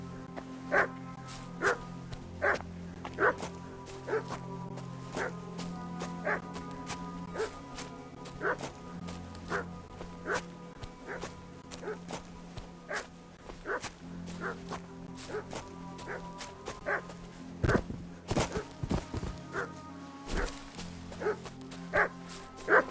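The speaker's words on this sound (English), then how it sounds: "What's that dog making such a fuss about?" A dog in the video game Kingdom Come: Deliverance 2 barks repeatedly in short bursts, with yips and whimpers, moderately distant over a quiet village ambience.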